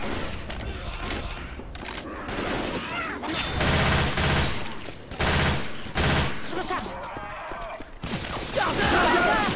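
Gunfire during a Left 4 Dead 2 campaign finale, dense overlapping bursts of shots over a constant roar of action, loud and continuous with short breaks.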